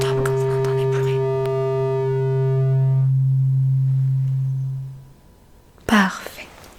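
A pure hearing-test tone in a mock audiometry exam holds steady for several seconds, then fades out into near silence, followed by a brief soft rustle or whisper at the close.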